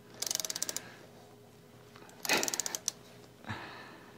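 A socket wrench ratchets in quick clicking bursts while a Screamin Eagle Stage 1 air cleaner is fitted to a Harley-Davidson Road Glide Ultra. Two rapid runs of clicks are close and fairly quiet, followed by a softer single clunk.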